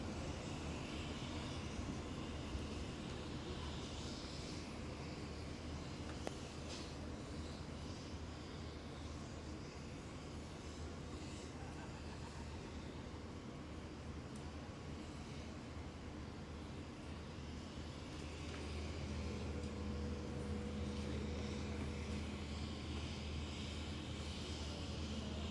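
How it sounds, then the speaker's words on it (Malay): A Hercules C-130 military transport aircraft drones steadily at a distance during a state ceremony, its engine noise low and continuous for the whole stretch with a faint tonal hum rising near the end. "yang akan turut sama menaiki pesawat Hercules C-130 ini"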